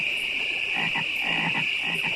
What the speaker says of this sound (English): It was just like one frog, and then it turns into 3 frogs